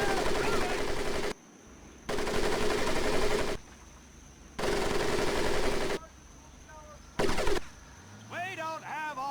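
Bursts of machine gun fire from Medal of Honor: Pacific Assault cross a Marine boot camp mud pit, several long sustained volleys with short gaps between them. A drill instructor shouts over the end.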